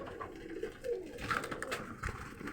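Young Budapest pigeons coo in a loft, soft repeated murmuring calls mixed with rustling and faint background noise, no talking.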